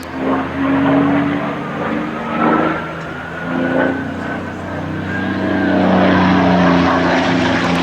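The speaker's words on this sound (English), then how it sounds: "The difference in the engine note you can hear is just the different strains on the Merlin as Dan puts her through her paces." A Supermarine Spitfire Mk IX's Rolls-Royce Merlin piston engine roars steadily nearby during an aerobatic display, its note rising and falling as the load changes, with a rough propeller drone throughout.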